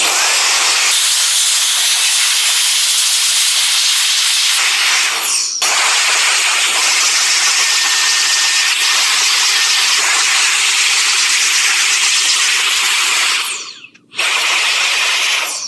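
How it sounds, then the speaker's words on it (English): An air duster blows a loud, steady hiss of compressed air while cleaning a gaming PC, running almost continuously for about fourteen seconds with a brief break near the start and a short stop near the end. "This is the best air duster."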